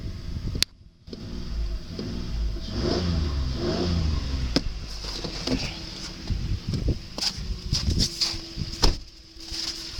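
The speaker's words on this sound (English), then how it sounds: "Engine's very responsive." The 4.0 engine of a 2008 Ford Explorer with a little over 100,000 miles revs up and settles, with a rising and falling drone, a few clicks and clunks, heard close in a quiet setting.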